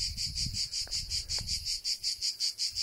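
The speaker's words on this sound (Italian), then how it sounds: "solo le cicale qua regnano" Cicadas sing in a dense, close chorus with a steady pulsing rhythm of about four or five beats per second, and a faint low rumble drifts underneath early on.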